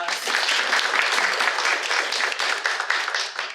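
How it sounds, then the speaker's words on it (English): Audience at a leadership summit applauds the hosts and founders, a full, sustained round of clapping from a large room that stays strong for several seconds before starting to thin. "Please give it up for our wonderful, wonderful hosts and founders today. Please, another round of applause."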